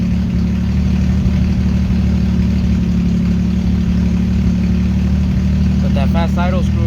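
A 1983 Buick Regal engine with a rebuilt Edelbrock carburetor and a suspected faulty fuel pump idles loudly and close, with a steady low rumble that starts to falter. A brief squeal comes near the end.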